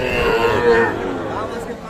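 Cattle and calves lowing amid a busy crowd at an outdoor livestock market, with murmured talk and chatter throughout; a sustained moo stands out over the background hubbub.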